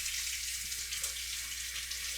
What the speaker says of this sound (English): We're gonna have to let the faucet run for a second